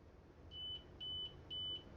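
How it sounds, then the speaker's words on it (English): A series of high electronic beeps from TOZO Golden X1 wireless earbuds, four short tones spaced evenly about half a second apart, over a low background hum. "You hear the beeping in the background."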